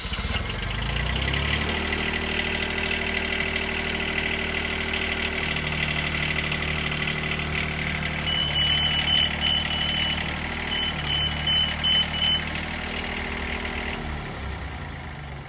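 A Duralift Jibbi boom lift's engine idles steadily, a constant loud mechanical hum with low throbbing, joined midway by short, high intermittent beeps of movement buzzers and alarms.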